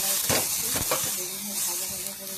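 Chopped yardlong beans with garlic and green chilli fry in a pan with a steady bright sizzle and hiss, broken by a few soft stirring scrapes and clatters.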